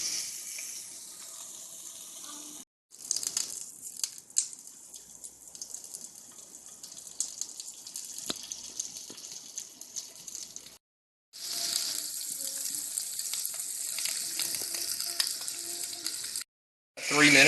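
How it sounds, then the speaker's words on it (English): Pasture raised pork chops sear in a preheated skillet with a little bacon grease, a steady close hiss and crackle of frying fat running continuously with brief silent cuts between stretches. "I've got a skillet preheated over here with just a little bit of bacon grease in the bottom. And I'm going to sear these on this fat cap first"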